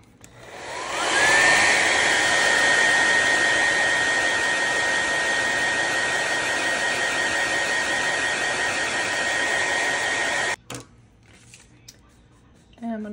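A hair dryer blowing on wet acrylic paint during a painting session, a loud steady roar that spins up, holds for about ten seconds, then cuts off abruptly before a few quiet handling sounds.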